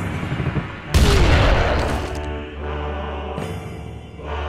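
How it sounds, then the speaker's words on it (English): A single massive boom hits about a second in, a sniper shot from Asura's Wrath, loud and broadband, then rolls off into a long decaying tail, with a second smaller impact near the end. "Sniper shot."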